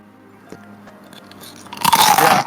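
Ice crunching between teeth, first light faint bites and then a loud, close burst of crisp crunching as a mouthful of ice is chewed.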